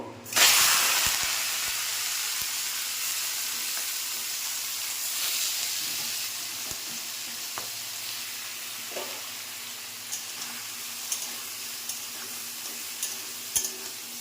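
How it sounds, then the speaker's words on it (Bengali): Prawns frying in a hot wok, a steady loud sizzle and hiss after an initial burst as they hit the oil, with occasional stirring clinks and no talking. "চিংড়ি মাছগুলো আগে ভেজে নেব"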